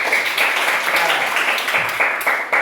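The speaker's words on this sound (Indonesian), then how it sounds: "Tepuk tangan untuk kelompok 1 dulu." Students in an Indonesian classroom applaud a group that has just finished presenting, a dense, fairly loud burst of many hands clapping at once that holds steady throughout with no voices on top.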